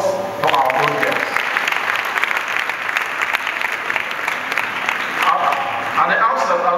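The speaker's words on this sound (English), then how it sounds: "A round of applause for our old girls." Applause at a girls' Presbyterian senior high school speech and prize giving day, a crowd clapping loudly and continuously, easing slightly then swelling again near the end, with some voices mixed in.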